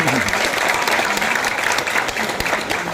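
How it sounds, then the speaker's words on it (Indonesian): Audience at a Balinese Legong Peliatan dance workshop breaking into loud, sustained applause, dense clapping throughout with a few nearby claps standing out. "Tepuk tangan dulu kepada beliau."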